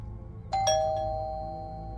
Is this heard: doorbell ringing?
yes